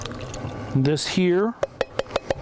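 Canned pineapple tidbits are poured into a dish, ending in a short run of evenly spaced wet plops and drips heard up close after a person speaks.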